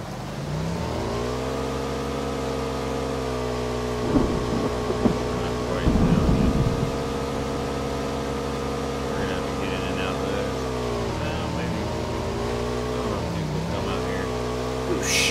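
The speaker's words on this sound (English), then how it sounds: "We got a motorcycle" Motorcycle engine in a video game, a steady droning hum that holds its pitch and dips slightly near the end, with brief rattles and bumps over it.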